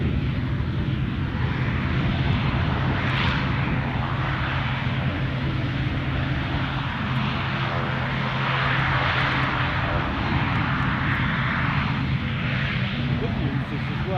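A propeller aircraft at Edinburgh Airport drones close by with a steady engine hum and a low, constant buzzing tone, under continuous wind-like noise and possible talk.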